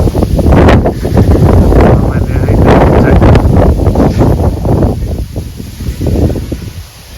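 Loud, gusty wind roars and buffets the microphone throughout, with rustling, while a person speaks briefly over it.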